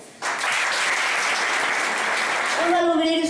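Strong applause from a crowd welcoming a speaker to a workers' event, bursting in abruptly and holding steady, with a voice beginning to speak over the clapping near the end.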